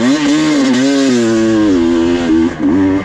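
Motorcycle on a hill climb training run at Mounds, engine revving hard and steady under heavy throttle as it accelerates up the slope, loud and close throughout with brief dips in pitch near the end.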